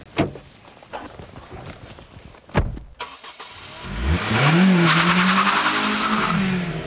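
Honda Civic Type R VTEC engine revving hard toward its 8,200 RPM limit, starting after a few sharp knocks and rising to a loud, sustained, climbing engine wail with a strong intake rush.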